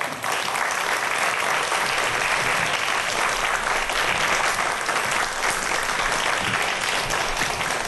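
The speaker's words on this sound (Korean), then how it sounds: "한재건 박사님 큰 박수로 무대 위로 모시도록 하죠." A studio audience gives big, sustained applause to welcome robotics researcher Dr. Han Jae-kwon onto the stage at a science lecture. The clapping is dense and even, loud and continuous throughout, with no talking.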